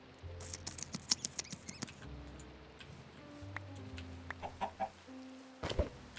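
Chickens in the video game Minecraft cluck in a scattered series of short, fairly close calls, with brief pecking patters and soft game ambience between them and no talk.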